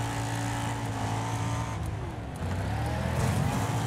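Race cars in the demolition derby racing game Wreckfest, with steady engine drone and revving that rises and falls as vehicles push through a pack, loud and continuous with no voices.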